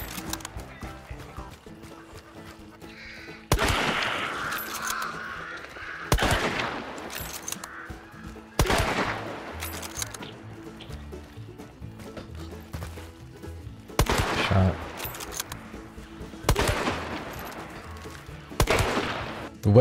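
Loud, close gunshots in Hunt: Showdown shooting practice against a zombie, fired singly at intervals of roughly two to three seconds, each crack trailing into a long reverberant tail with faint ambience between shots.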